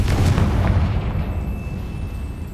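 A Confringo fire spell blasts in Hogwarts Legacy, a muffled, rumbling explosion of low boom that fades out over a couple of seconds.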